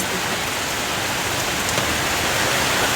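Heavy rain pouring down outdoors, a dense, steady hiss that stays loud and even throughout, with no voices heard.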